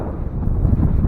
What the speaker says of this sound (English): Man, is it windy today.